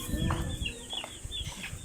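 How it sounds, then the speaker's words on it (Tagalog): A large chicken, the father bird of the flock, clucks a few times close by in an outdoor yard, short uneven calls over low background rumble. "may manok pang malaki, oh. Ayun, malaking manok."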